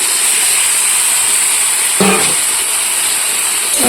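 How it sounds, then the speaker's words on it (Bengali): Meat added to a pan with ginger-garlic paste fries with a loud, continuous broadband hiss, a sharper burst of sizzling partway through as more goes into the hot oil, close and steady, no voices. "আদা রসুনের কাঁচা গন্ধটা চলে গেছে এবার মাংসগুলো দিয়ে দিচ্ছি"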